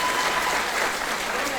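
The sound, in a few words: applause for school staff at graduation ceremony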